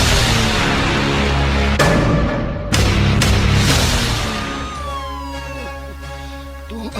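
A loud siren wails close by, its tone rising and falling before it fades as the vehicle moves off.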